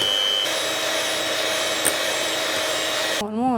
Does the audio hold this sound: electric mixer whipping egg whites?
yes